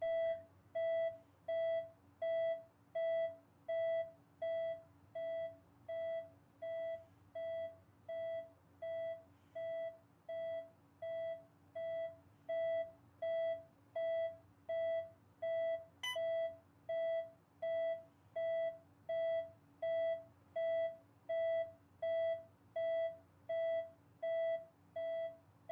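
Hospital monitoring machines in the video game That Dragon, Cancer sound a steady electronic alarm, a soft repeating beep about once per second that runs on without a break, with one brief click partway through.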